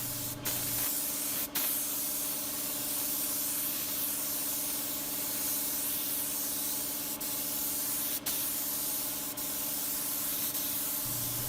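Lacquer is sprayed onto cherry wood, a continuous loud hiss running nearly unbroken, with a few sharp clicks and brief gaps where the trigger is released and pressed again.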